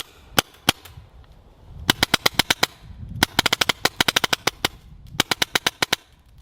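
Angel paintball marker firing paint at around 410 to 420 psi, sharp loud close pops in quick bursts: two single shots, then rapid strings of eight to a dozen shots separated by brief pauses.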